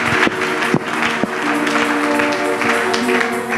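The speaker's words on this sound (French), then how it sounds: "On acclame le Seigneur." A church congregation at a Sunday service applauds, sustained loud clapping from many people with scattered sharper claps and a steady hum underneath.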